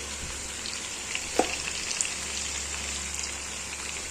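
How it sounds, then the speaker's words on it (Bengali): Spiced chicken korma mixture fries with a steady, close sizzle in a pan on full heat, with one brief scrape of stirring partway through and no voices. "এবার এটাকে আরেকবার নাড়াবো।"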